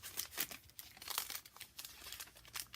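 Soft, close crinkling and rustling of a paper doily being folded in half for a handmade journal, quiet and continuous.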